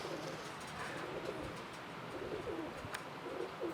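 A pigeon coos softly in repeated low, rolling phrases, fairly close, over a steady background hum, with no one speaking.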